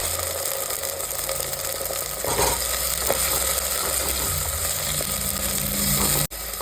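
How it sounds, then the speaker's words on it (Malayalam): Tomatoes and four or five green chillies for a fish curry are stirred in a hot pan, giving a steady sizzle with scraping clicks of the spoon, close and continuous, without speech. "നന്നായിട്ട് ഇളക്കി കൊടുക്കാം കേട്ടോ"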